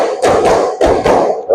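A classroom of standing students claps together in a counted one-two-three pattern, several loud, sharp group bursts spaced unevenly across a short stretch, with no talking between them.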